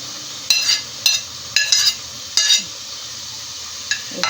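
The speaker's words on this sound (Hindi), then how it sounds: "अब इसमें मैं प्याज भी डाल देती हूँ।" Onions stirred into sizzling cooked-down tomatoes for baingan bharta, a steady soft frying hiss broken by four or five sharp spoon scrapes and clinks against the pan.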